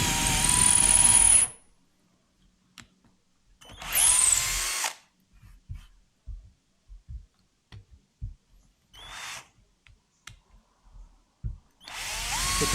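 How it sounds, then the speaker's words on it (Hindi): A Stanley drill driver boring into wood with a 6 mm bit, heard as three or four loud whirring bursts of a second or so each, separated by quiet pauses filled with small clicks and handling knocks. "काफ़ी आसान और काफ़ी खूबसूरती के साथ ड्रिलिंग इस मशीन से की जा सकती है, प्लाईवुड हो या वुड हो"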